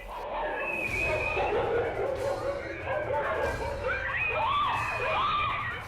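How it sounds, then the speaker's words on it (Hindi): Pack of five stray dogs on a street in Bathinda attacking a child: loud overlapping barks and yelps mixed with a child's high screams, continuous and close for several seconds. "आवारा कुत्तों का झुंड एक बच्चे पर हमले के लिए उतारू हो गया।"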